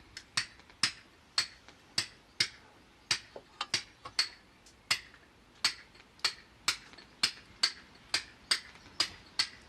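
Sharp metallic taps strike in a steady rhythm, about two per second, a hammer hitting a chisel while hand-carving a stone water feature, close and crisp with no talking.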